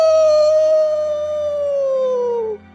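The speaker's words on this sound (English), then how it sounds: "I hear her howl echoed by two wild dogs" A single long wild-dog howl from the video game Alluvium, a loud, clear tone sliding slowly downward over more than two seconds before breaking off.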